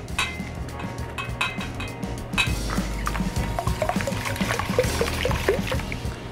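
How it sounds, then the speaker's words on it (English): Thick custard pours and dribbles steadily over potatoes in a dish, with soft wet glugs and a few clinks, no talking. "then we're going to pour this over the potatoes"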